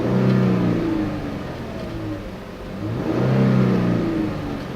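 A 2016 Chrysler 300C AWD engine revving loudly up, easing off briefly, then rising again in two strong swells, heard close with no talking.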